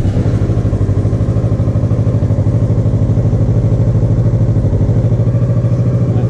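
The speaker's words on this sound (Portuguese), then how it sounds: "então vamos ligar a moto aqui" A cold 2018 Kawasaki Versys 650 ABS Tourer motorcycle engine, just started, runs steadily at a low, even idle near 1800–2000 RPM, loud and close, with a rapid chugging pulse and no voices.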